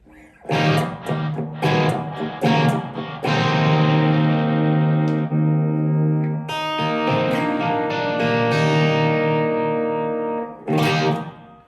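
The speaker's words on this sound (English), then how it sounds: "we can be very deliberate about the distortion and go into the first distortion option" Distorted electric guitar through a Blackstar ID Core Stereo 10 V3 amp, loud chords and sustained notes ringing out with a gritty, crunchy tone, played alone.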